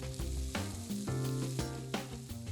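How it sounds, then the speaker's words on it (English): Bacon sizzles over medium heat in a heavy pot or Dutch oven, a soft frying crackle sitting under louder tonal background music throughout. "In a heavy pot or Dutch oven, cook bacon over a medium heat to render the fat."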